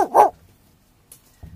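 A human voice imitates a dog's bark with one short, loud, close woof-like yelp at the start, then near silence with a couple of faint small noises.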